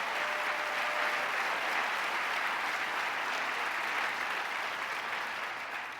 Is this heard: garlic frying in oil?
no